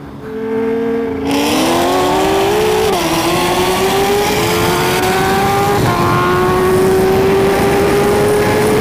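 Loud, close Corvette C7 ZR1 V8 at about 950 horsepower, revving hard with a rising engine pitch that climbs through several gear changes and holds a strong, sustained roar.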